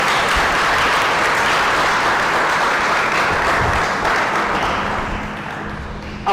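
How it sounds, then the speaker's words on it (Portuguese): A church congregation at a New Year's Eve service applauding, sustained loud dense clapping from a large crowd that holds steady and then tapers slightly toward the end. "dá mais uma salva de palmas para Jesus"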